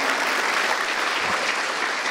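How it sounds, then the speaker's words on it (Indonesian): Steady, dense applause from a stand-up comedy audience, loud and even throughout with no voices over it. "boleh minta tepuk tangan"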